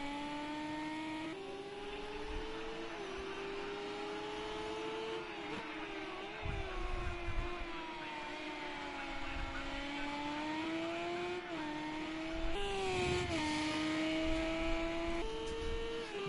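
Racing car in a racing video game, engine held high and wavering through drifts with brief revving surges and swells, heard steadily and fairly near with no voices.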